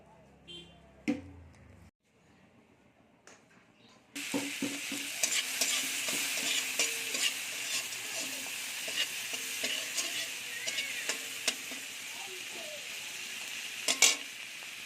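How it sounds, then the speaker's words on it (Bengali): Prawns frying in hot oil in a pan, starting after a quiet few seconds of small knocks into a loud continuous sizzle with scattered spatters and a sharp clink of utensil near the end. "চিংড়ি মাছটা আমার ভাজা হয়ে গেছে"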